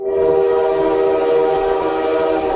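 A train horn blares loud and close in one continuous, steady chord-like tone for nearly three seconds, with a faint rolling rumble of the passing train beneath it and no voices.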